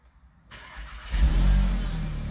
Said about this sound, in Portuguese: Agora vamos ligar esse belo golfão para a gente escutar um pouco do som que ficou esse escapamento.